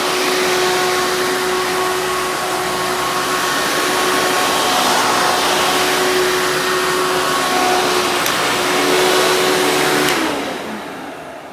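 A Hoover bagless twin-chamber upright vacuum cleaner with direct air suction runs loudly and steadily with a constant motor whine, then winds down near the end.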